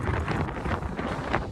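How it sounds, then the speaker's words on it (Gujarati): Strong wind buffets the microphone on the open deck of a ro-ro ferry crossing from Ghogha to Hazira, a steady broadband roar with gusty swells throughout. "પવન છે કાંઈ ગજબ"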